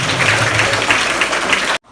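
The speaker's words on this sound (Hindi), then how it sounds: "एक बार जोरदार तालियां डायमंड पब्लिक स्कूल के समस्त शिक्षकों के लिए" Audience applause for the teachers of Diamond Public School, a steady burst of loud, dense clapping from a crowd in a hall that cuts off abruptly.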